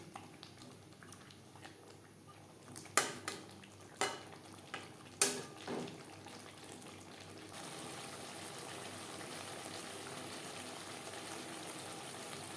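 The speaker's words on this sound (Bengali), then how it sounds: "2-3 মিনিট মশলার সাথে পটল নাড়াচাড়া করে নেব হাই টু মিডিয়াম ফ্লেমে।" Pointed gourd being stirred with spices in a pan over high to medium flame: a few sharp utensil knocks against the pan early on, then a steady, soft sizzling hiss that carries on to the end.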